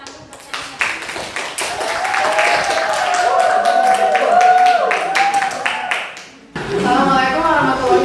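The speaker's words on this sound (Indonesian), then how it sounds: "silakan tepuk tangan dulu buat Shania." A school class claps for a student presenter at a senior high school guidance session, with dense, steady applause lasting several seconds, then a brief dip before clapping resumes amid murmuring voices.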